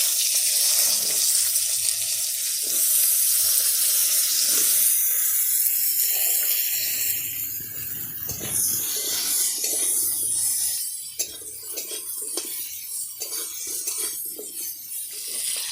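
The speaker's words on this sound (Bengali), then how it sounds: "এবার মাছ ভাজা তেলের মধ্যে আলু আর পটলগুলো একটু ভেজে নেব। প্রথমে পটল ভেজে নেব।" Pointed gourd frying in leftover fish-frying oil in a village kitchen: a loud, steady hiss of oil at first, then thinning into crackles and light scraping knocks from a utensil against the pan.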